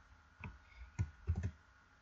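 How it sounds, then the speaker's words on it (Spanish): Several soft, close clicks from a computer mouse being left-clicked, spaced irregularly over two seconds in a quiet room. "Lo que vamos a hacer es darle clic izquierdo en el icono de suma donde dice apuntarse una clase"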